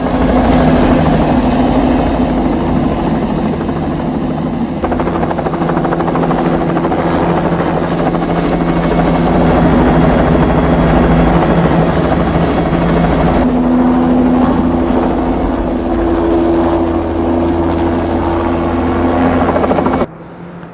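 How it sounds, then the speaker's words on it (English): A helicopter from the 1982 film TRON sets down on a helipad, its loud, steady rotor and turbine drone running continuously for about twenty seconds with a low throbbing hum, then cutting off abruptly near the end. "the helicopter landing."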